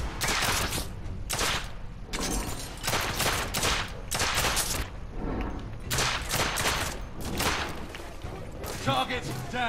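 Gunfire in the video game The Order: 1886, loud rapid shots and volleys in repeated bursts that fill nearly the whole stretch, with game voices mixed in.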